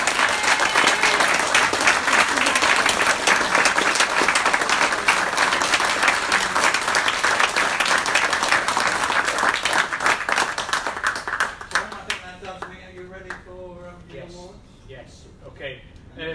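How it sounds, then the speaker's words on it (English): An audience at a goalball end-of-season awards ceremony gives a long, dense round of applause that holds strong for about twelve seconds, then thins out as voices begin talking over the fading claps. "I think a round of applause for Dobson."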